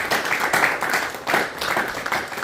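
A congregation at a Father's Day church meeting claps for Pastor Kamran, the applause rising and falling in close, energetic waves of many hands.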